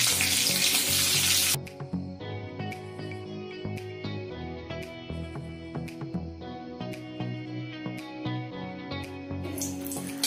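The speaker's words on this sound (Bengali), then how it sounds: "আমি এখন ক্যাপসিকাম গুলোকে হালকা শ্যালো ফ্রাই করে নেব" Capsicum pieces shallow fry in oil with a little salt, opening with a loud hissing burst as they hit the hot oil, then settling into a steady crackling sizzle with scattered pops and occasional utensil taps.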